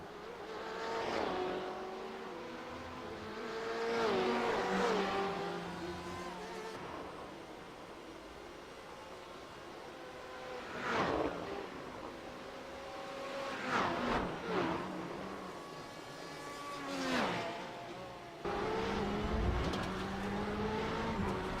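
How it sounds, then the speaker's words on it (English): Porsche race cars at Sebring scream past in a series of high-revving passes, each engine note rising and falling as it nears and recedes, with quieter stretches between, no talk. "You gotta love the sound of the Porsche."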